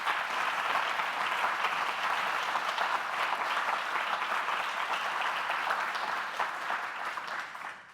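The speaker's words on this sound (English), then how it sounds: "So a big, huge round of applause for them." Sustained, dense applause from a large audience at a closing event fills the space steadily for several seconds, loud and continuous, tapering slightly at the very end.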